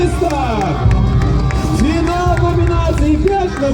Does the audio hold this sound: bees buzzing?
no